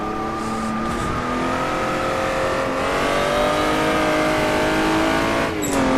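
A Jaguar D-type race car on the Goodwood circuit, its engine a loud, close in-car roar that climbs in pitch, drops briefly on a shift, then rises again, with a further gear change near the end.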